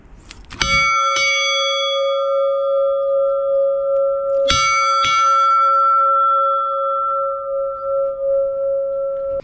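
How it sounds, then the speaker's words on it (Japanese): A bell rung twice at Lovers' Cape in Kashiwazaki, Niigata, each strike ringing out with a bright metallic clang and a long, sustained humming tone that decays slowly in quiet open air. "ちょっと鐘を鳴らしたいと思います。"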